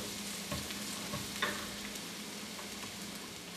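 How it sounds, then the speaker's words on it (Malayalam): Ginger, garlic and green chilli sizzle steadily in a pan, with a few soft scrapes of stirring. The frying is close, constant and not loud, and no one talks. "ഈ ഇഞ്ചി, വെളുത്തുള്ളിയും പച്ചമുളകും ഒക്കെ നല്ല കരുകരുപ്പാവുന്ന വരെ സോട്ടേ ചെയ്യുന്നതാണ്"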